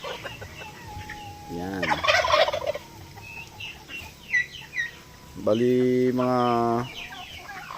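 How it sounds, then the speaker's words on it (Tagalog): Roosters and chickens in a backyard flock cluck and crow nearby, with a drawn-out harmonic crow near the end over soft background clucking, while a person speaks briefly. "Kailangan natin magkulong ng mga 3 roster."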